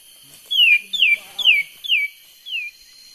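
Wild birds in a Sumatran forest, likely cucak mini and kapas tembak, give five loud, clear descending whistled chirps in a steady rhythm, close by against near silence.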